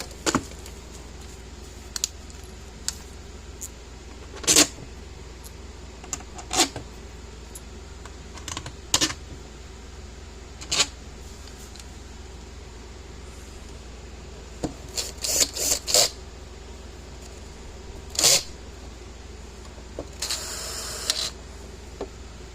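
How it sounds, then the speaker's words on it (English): Screws being tightened on the casing of an 11-year-old Power Wizard PW6000 electric fence energizer, giving scattered short scraping and clicking bursts, close and fairly quiet, with no talking. "So we'll tighten up the screws."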